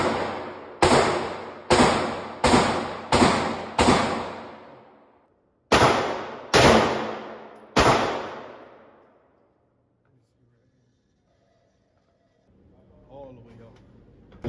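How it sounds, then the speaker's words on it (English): Smith & Wesson M&P Shield pistol test fire at a shooting range: nine sharp, loud gunshots, a rapid string of six followed by three more spaced shots, each ringing out before quiet returns, with faint talking at the end. "I shot the test fire to see where everything is lined up."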